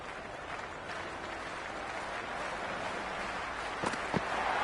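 Stadium crowd at an India vs Pakistan cricket match: a broad, continuous roar of many voices and cheering, steady and fairly distant, swelling slightly toward the end with a couple of brief sharp accents.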